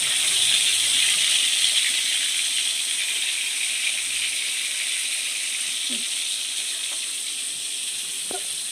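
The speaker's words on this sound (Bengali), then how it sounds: "চারা পিয়া মাছ আর চারা পোনা মাছটা ভাজছি" Tilapia and rohu fish fry in hot oil in a pan, a continuous close sizzle with soft crackles and a couple of brief pops or clinks near the end, and no talking.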